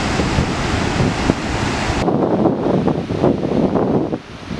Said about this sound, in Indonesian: Terus saya juga memastikan audionya baik-baik aja di tengah angin yang deras ini ya.